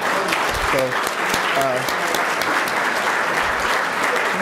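Audience at a club luncheon claps steadily for several seconds, a dense, even patter of many hands, with a few voices briefly audible underneath.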